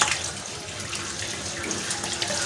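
Fresh tap water runs steadily for a rinse, a continuous close splashing hiss at even loudness with no voices.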